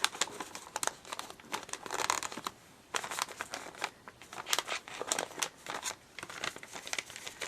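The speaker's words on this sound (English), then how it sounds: "And just folding it, making my lines." Paper is folded and creased by hand to make a gift bag, giving close, repeated crinkles and sharp creasing snaps in an uneven rhythm with no talking.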